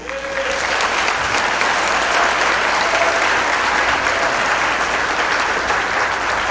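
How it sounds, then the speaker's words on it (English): A large audience at a school district event bursts into sustained applause, dense steady clapping filling the room for several seconds without pause. "Let's have another big round of applause to celebrate Literacy"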